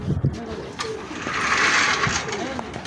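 A pigeon coos close by at a pigeon dealer's, soft rounded calls repeating under a busy background with people talking.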